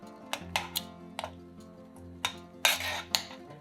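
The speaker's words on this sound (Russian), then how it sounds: "раздавливаем их ложкой." A metal spoon crushes softened cranberries simmering with water and sugar in a saucepan, giving sharp, irregular clinks and scrapes against the pan with soft squishing between them, close and fairly quiet.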